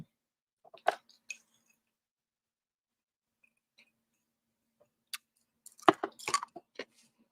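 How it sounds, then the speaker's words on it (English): Ice being chewed from iced coffee, a few crunchy bursts near the start and a denser cluster of close, crisp crunching near the end, with quiet gaps between and no talk. "Okay, I'm drinking iced coffee, so I'm chewing on ice."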